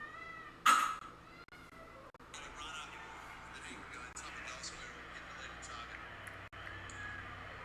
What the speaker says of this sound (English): Have plenty cats over here that give me